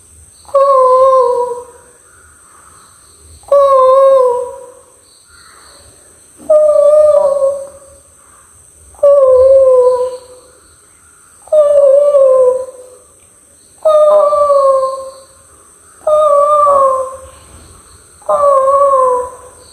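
A mimicry artist on stage imitates a myna bird with eight evenly spaced, close, loud whistling calls, each lasting about a second, separated by short quiet gaps.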